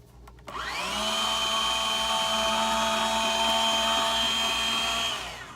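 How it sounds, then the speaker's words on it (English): Heat embossing tool for card making, a loud steady blower-like whir that starts abruptly and runs evenly for about five seconds before winding down, with no talking. "Now I'm gonna go ahead and emboss it."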